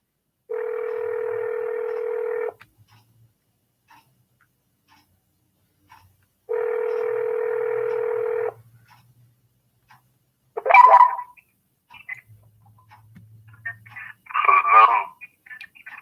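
Ringback tone on an outgoing telephone call to a real estate services office: two long, steady tones of about two seconds each, separated by a four-second gap, followed by faint, brief voice-like sounds near the end.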